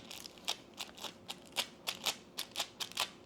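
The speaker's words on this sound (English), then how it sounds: "So I'm just going to take a little bit of this tape just to clean it up." Short strips of tape dabbed repeatedly against a resin mold to pick up lint and dust, giving a series of about a dozen quiet, crisp tapping and peeling ticks at an uneven rhythm, close and otherwise silent.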